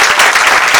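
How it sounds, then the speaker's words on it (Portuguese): An audience at a debate on the legalisation of the working class applauds the publishing house workers: a brief, loud, dense wash of crowd clapping. "eu queria aplaudir os trabalhadores da Boitempo"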